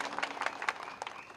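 A crowd claps in a brisk, dense burst of applause at a Telugu Desam Party political meeting during an inauguration, the clapping fairly close and lively throughout.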